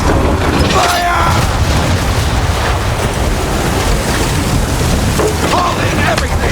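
Ship cannons fire during a naval battle in Assassin's Creed 3: dense, continuous booming and rumbling blasts, loud and close, roll on under shouted voices and churning sea and wind noise.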